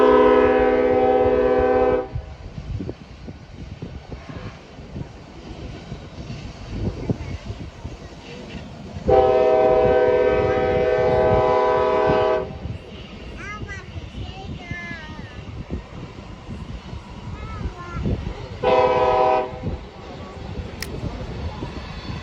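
Locomotive 8458 works around the Tehachapi Loop, its horn sounding in long harmonic blasts at the start, the middle and near the end. Engine rumble runs underneath, and a crowd of onlookers talks at a viewing platform.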